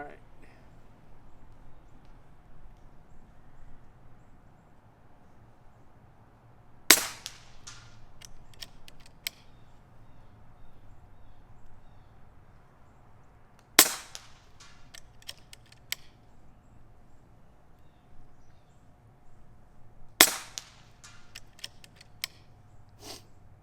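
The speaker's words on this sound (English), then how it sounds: "We're going to be shooting the FX 18 grainers here." A Zbroia Hortitsia air rifle fires FX 18-grain pellets: three sharp, loud cracks spaced several seconds apart, each followed by faint clicks and mechanical handling over a quiet background.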